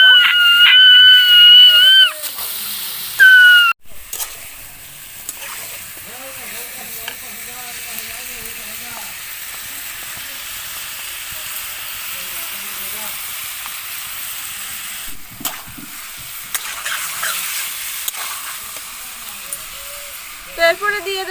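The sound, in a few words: chicken being stir-fried with spices in a pan, sizzling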